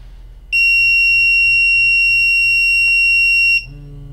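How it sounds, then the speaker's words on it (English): Self-test of a SENSIT P400 multi-gas monitor: its sounder gives a loud, steady high-pitched alarm tone for about three seconds, cut off abruptly, over a low hum that continues throughout. "Then it will do its series of tests of the LEDs, along with the sounder and the vibration motor."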